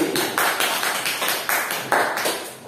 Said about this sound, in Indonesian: tepuk tangan untuk kelompok Mas Razi.